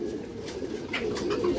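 Old-breed pigeons coo in a steady low murmur, a soft continuous warbling that carries on without pause at moderate loudness, with no voices over it.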